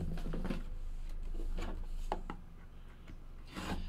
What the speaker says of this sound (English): the sticker pop crack sound